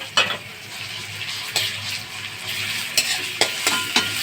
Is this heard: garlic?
yes